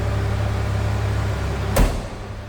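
The door of a 1988 Ford Bronco II XL 4x4 shuts with a single solid thud over a steady idling engine hum.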